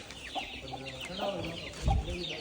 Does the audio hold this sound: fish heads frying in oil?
no